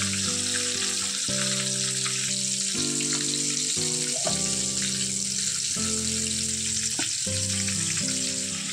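Chicken leg pieces fry in oil over a medium gas flame, a loud continuous close sizzle with shifting crackle layers and a few clinks, no talking.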